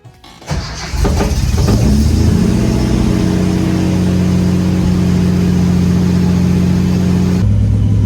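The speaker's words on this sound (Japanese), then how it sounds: "アイドリングスムーズだね、この前と比べたら。" A Nissan Fairlady Z S30 engine starts up and settles into a loud, steady idle close by, a smooth even rumble that continues throughout.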